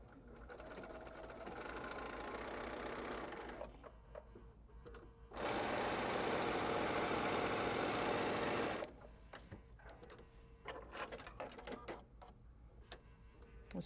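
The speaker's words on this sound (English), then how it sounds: "just sew right up that edge" A sewing machine stitches quilt fabric along an edge, running in steady buzzing bursts, with a loud continuous stretch in the middle and brief pauses between runs.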